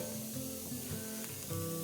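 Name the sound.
red wine added to hot pan, sizzling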